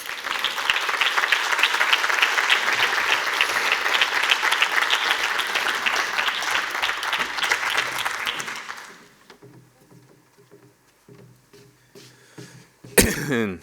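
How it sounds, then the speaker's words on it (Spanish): Conference audience giving dense, sustained applause for about nine seconds at a social work event, then fading into a quiet room with scattered coughs and throat clearing before a loud handling thump. "Un aplauso, por favor."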